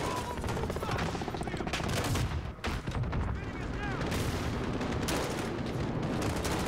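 Dense gunfire from Call of Duty: Modern Warfare (2019) rattles almost without a break, loud and close, with heavy bursts and explosions layered into a chaotic in-game firefight.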